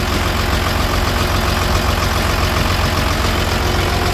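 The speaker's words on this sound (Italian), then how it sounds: "un bel motore questo qua, 6 cilindri Volvo turbo con la turbina, molto potente" A Volvo FL fuel tanker truck's six-cylinder turbo diesel idles steadily, a loud, close, even engine rumble with constant low throb and no voices.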